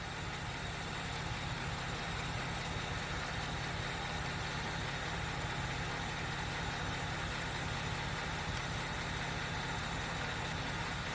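BMW X5 with a ZF 6HP six-speed automatic transmission idles during a transmission fill, giving a constant dense engine drone with a steady low hum and no change in level.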